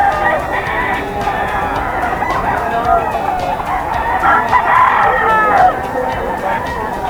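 Several roosters crow and cluck amid the busy din of a crowded gamefowl market, overlapping calls rising over a steady background of chatter and murmuring voices.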